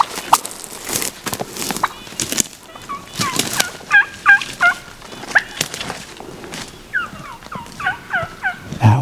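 A Merriam's wild turkey, a large young jake at a spring hunting camp in Washington State, gobbles repeatedly from close range, several loud rattling calls in a rapid, uneven series against outdoor background noise.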